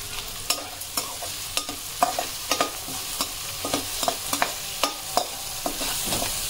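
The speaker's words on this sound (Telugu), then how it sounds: "సో ఫాస్ట్గా ఫ్రై అయిపోతుంది." Beans frying in a pan with a little salt, a soft continuous sizzle broken by frequent sharp scrapes and clacks of a spatula stirring, close and without talk.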